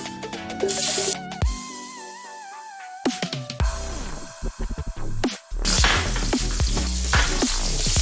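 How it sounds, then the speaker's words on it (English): Loud sizzling of onions hitting a hot pan, crackling steadily after a few clattering knocks and utensil sounds. "So start by frying the onions."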